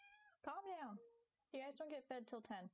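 Pet cats meow at home in a couple of drawn-out, wavering cries before a person speaks to them calmly.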